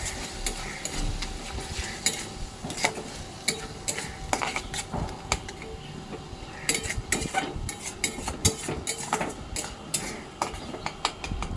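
Masala with a spoonful of green chili paste being stir-fried in a pan for prawn malai curry, a spoon repeatedly scraping and clinking against the metal over a soft, steady sizzle of oil, close and alone.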